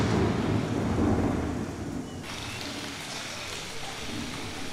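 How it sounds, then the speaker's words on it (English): Low rolling thunder rumbles heavily at first, then eases into a softer, continuous wash of rain and wind noise. "Thunder rolls like a falling drum."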